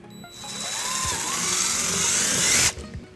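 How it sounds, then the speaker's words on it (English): A power drill with a 3/16 bit whirs steadily for a few seconds, its pitch rising slightly under load as it bores through material on a 2016 Chevrolet Impala, then cuts off abruptly. "we'll drill our first hole using a 3/16 drill bit"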